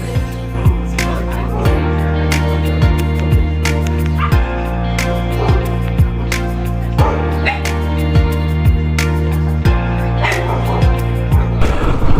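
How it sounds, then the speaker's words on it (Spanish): Two small, playful dogs at a guesthouse in Albania give repeated short yips and barks in an uneven rhythm, close by, over steady background music with no talking. "Había también 2 perritos incluidos en el alojamiento, muy simpáticos y juguetones."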